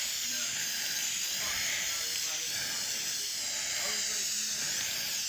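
Spray paint can hissing steadily as a light coat of flat paint is misted onto homemade paper and packing-tape reactive targets, a continuous broadband spray with faint background sounds underneath.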